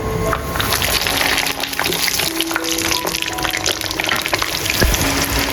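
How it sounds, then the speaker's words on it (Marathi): Garlic frying in hot oil for a vegetarian cooking dish, giving a close, continuous crackling sizzle with small pops and bubbling that stays loud and steady throughout, with no talking. "तर आपला जो लसूण आहे ना तो सुद्धा खूप छान प्रकारे तेलात फ्राय होतो आहे"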